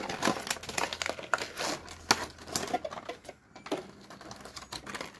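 Small plastic box holding a Shire figure being opened and handled up close, with a run of sharp crinkling clicks and taps near the microphone, no talking.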